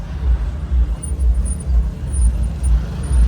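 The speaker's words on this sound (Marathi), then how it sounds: "ट्रॅफिक बघा किती आहे." Busy road traffic with a steady low rumble of engines passing nearby, rising and falling in waves, and a faint high whine above; no talking.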